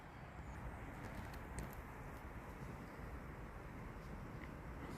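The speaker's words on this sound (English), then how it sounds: "just listen to the birds" Soft cooing of pigeons or doves in woodland trees, faint and distant over a hushed wind-brushed outdoor background, a few low calls rising briefly above the steady ambience.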